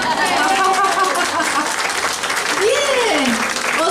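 A church congregation at a women's conference claps in steady, lively applause, with a voice calling out over the clapping.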